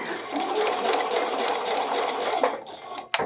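Home sewing machine stitching a bralette, a close, continuous whirring run of stitches that ends abruptly with a few clicks and clunks as it stops, no voices.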